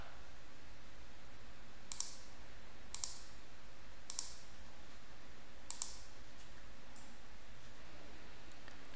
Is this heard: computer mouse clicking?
yes